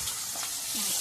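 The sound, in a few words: fish frying in oil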